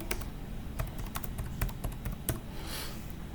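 Keys tap on a computer keyboard as a password is typed, an uneven series of quick clicks, close and fairly quiet, over a soft background hiss.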